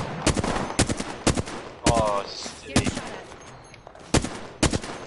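Gunfire in the video game Apex Legends, a series of sharp, loud single and double shots spaced irregularly, with a player briefly talking between them.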